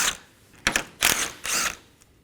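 A ratchet wrench works loose two 8mm bolts on the radiator bracket that holds the transmission oil cooler lines of a Dodge Durango 5.7L V8, giving several short, close bursts of rapid clicking with brief pauses between them.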